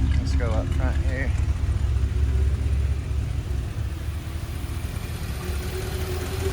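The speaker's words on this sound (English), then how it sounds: "just wanted you to hear the engine" A 1955 Chrysler New Yorker Town & Country wagon engine idles after a cold start, a steady low rumble running throughout with someone speaking briefly over it near the start.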